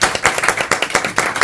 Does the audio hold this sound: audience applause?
yes